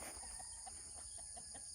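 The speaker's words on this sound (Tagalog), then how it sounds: "Daming manok." Several chickens cluck in short, repeated bursts amid a steady background hum and faint high-pitched hiss.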